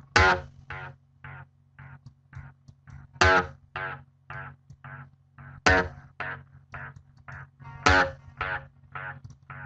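Clean, driven electric guitar notes ring out, each followed by a train of quieter delay repeats that fade and roughen, in a steady rhythmic pattern.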